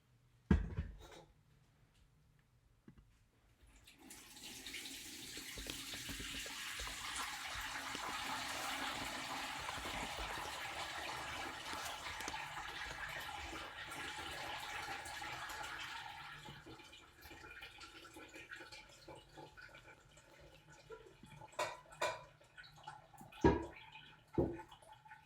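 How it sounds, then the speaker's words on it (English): Red onion skin dye liquid pours through a strainer in a steady splashing stream for several seconds, then thins to scattered drips and small clinks. "now we're going to strain this beautiful red dye"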